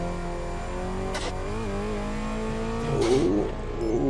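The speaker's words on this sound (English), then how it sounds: "the revs are really quick when the clutch is engaged" A Bugatti EB110SS engine in the racing game Test Drive Unlimited 2, a steady high-pitched engine drone with pitch rising and falling as it revs, loud and continuous throughout.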